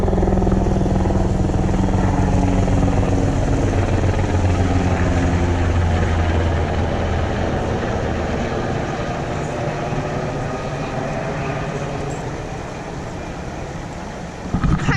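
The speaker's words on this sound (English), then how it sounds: "That was a helicopter that just flew over." A helicopter's loud, steady rotor drone fills the whole stretch as it flies over the James River, holding strong overhead before easing slightly as it moves off.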